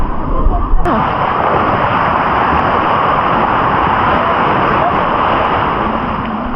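Ocean waves break on a beach in La Union, a loud, constant roar of surf that fills the whole stretch with little change, like wind-driven wash close by.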